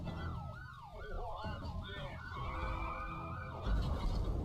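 Police car siren in the racing game Need for Speed: Carbon, wailing and yelping in rising and falling sweeps over a rumbling car engine, fairly close, with several siren tones overlapping.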